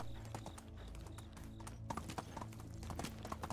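Horse hooves clip-clop in a quick, even rhythm in the medieval survival game Medieval Dynasty, layered over game music and ambience at low level.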